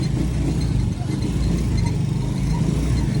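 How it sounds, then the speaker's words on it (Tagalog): A motorcycle engine idles without a key in it, a steady close mid-pitched putter with a slight rev, while someone talks over it. "umaandar kahit walang susi ang motor"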